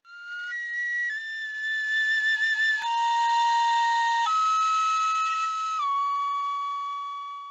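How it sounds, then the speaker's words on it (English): A single person whistles a slow, melodic Ressican tune alone, holding pure sustained notes that step between pitches in long phrases, clear and close with no other sound. "A beautiful Ressican melody."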